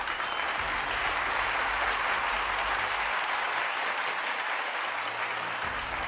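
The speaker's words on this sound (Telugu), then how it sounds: "లేచి నిలబడి 2-3 నిమిషాల వరకు చప్పట్లు కొడుతూనే ఉన్నారు." Sustained applause from a large audience rising to its feet at a public assembly hall, a dense, even roar of clapping that continues steadily throughout at loud, unchanging level with no voices.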